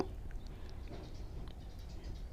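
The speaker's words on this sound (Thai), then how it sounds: "วันนี้วันศุกร์ที่หกนะคะฝน น่าจะตกทั่วไทยเลยเนาะ" Steady rain falls in an early-morning downpour, a soft continuous patter with scattered light drips and ticks, fairly faint and without any talk.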